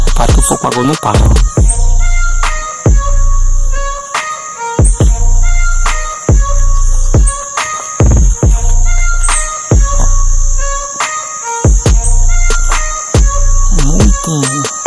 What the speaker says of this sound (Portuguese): mais passarinho cantando aqui